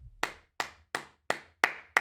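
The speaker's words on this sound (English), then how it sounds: "round of applause" Six separate, evenly spaced hand claps ring out close and crisp, one person clapping slowly rather than a crowd applauding.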